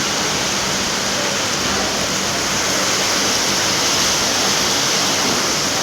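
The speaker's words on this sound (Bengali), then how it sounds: "প্রচুর বৃষ্টি, মেঘ ডাকছে, শুনতেই পাচ্ছ কতটা বৃষ্টি নেমে গেল" Heavy rain pours down during a storm in a dense, loud and unbroken roar that fills the whole stretch, with no voices.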